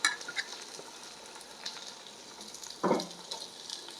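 Onion, ginger and garlic sauté in ghee for ghee rice, with a soft continuous frying hiss, a few light clinks and a brief louder stirring scrape near the end.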